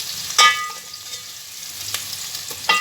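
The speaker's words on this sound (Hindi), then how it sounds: "लहसुन अदरक जो है वो भी हमने फ्राई कर लिया अच्छे से।" Garlic and ginger fry in hot oil in a pan for aloo keema, giving a steady, fine crackling sizzle broken by a couple of sharp clicks from stirring.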